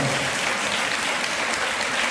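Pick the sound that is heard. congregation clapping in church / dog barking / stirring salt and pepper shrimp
congregation clapping in church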